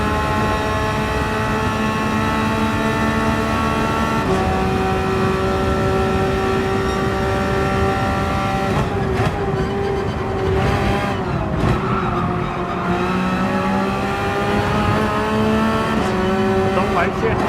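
A Porsche race car in a racing video game revs hard, its engine note rising and shifting through gears with steady, loud harmonic tones and brief tire noise, while someone talks over it throughout.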